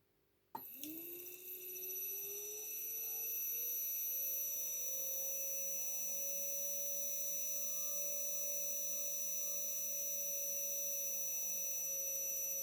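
After a sharp click, a high electric whine rises smoothly in pitch as a motor spins up, then holds a steady tone with faint tonal hum.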